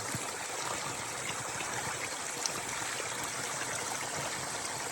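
Spring water streams and trickles steadily from under a rock in the hills nearby, a constant rushing flow with no voices.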